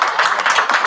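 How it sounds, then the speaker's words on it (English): Brief burst of dense applause from an audience at a Benton Harbor city commission meeting, steady and fairly loud throughout with no talking. "y'all give us an applause for having the Black queens that rock"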